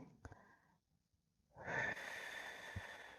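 Exhaled breath during a shoulder mobility and posture workout: a short breathy puff early, then a long, steady broadband exhale swelling from mid-clip to the end, close and fairly loud with no talking.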